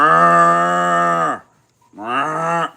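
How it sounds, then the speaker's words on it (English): A cow moos loudly and close by, one long drawn-out call, a short pause, then a second moo with no other sounds around it. "Because we know Mike got all them cows."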